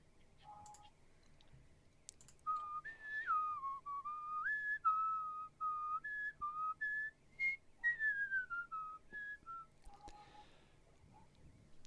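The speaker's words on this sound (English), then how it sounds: "Heard whistling and I figured." Someone whistles a meandering tune close to the mic, in short melodic phrases broken by brief pauses, while computer keys click lightly in the background.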